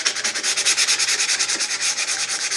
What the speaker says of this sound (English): I'm just scuff sanding it